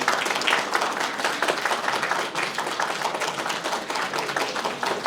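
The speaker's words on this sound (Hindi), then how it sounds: "इनके लिए जोरदार ताली लगाइए" Loud, dense applause from an audience at a medical college continuing education event, a continuous close wash of many hands clapping at once for the full stretch, with no speech over it.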